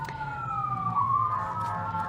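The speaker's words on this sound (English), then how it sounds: "I hope everyone can hear over the sirens." Emergency vehicle sirens wail outside, a sustained rising and falling tone carrying steadily through the whole moment over low background rumble.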